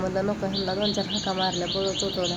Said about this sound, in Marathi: सकाळच्या बारी पक्ष्यांचा किलबिलाट सुरू आहे बघा.